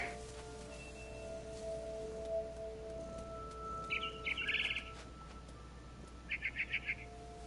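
A barn swallow chirps in short trilled bursts outside a window in the game What Remains of Edith Finch, two clusters of bright tweets over a low ambient game backdrop.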